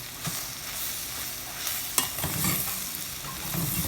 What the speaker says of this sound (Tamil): வெட்டி வச்ச தக்காளி பழத்தையும் போடுங்க.